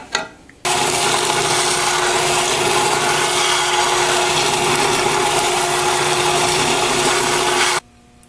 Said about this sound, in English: I've roughed in one angle with the bandsaw.